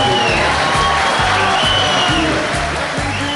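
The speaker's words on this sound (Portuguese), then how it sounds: "Cadê a salva de palmas especial aqui?" Crowd at a live concert applauds and cheers, a steady wash of clapping with whoops under a thumping band beat that keeps playing throughout.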